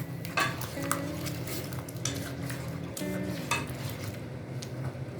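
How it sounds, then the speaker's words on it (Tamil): A spoon scraping and stirring thick masala for mango fish curry in a pan, with a soft sizzle beneath and occasional metallic clinks, close up and without talking. "இந்த மசாலாவை நல்லா மிக்ஸ் பண்ணிக்கோங்க."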